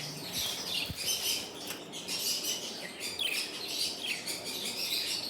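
Pet finches in a cage, a breeding pair at an Islamabad bird market, chirp and twitter in dense overlapping bursts, a steady busy chatter of many small birds close by with no talk.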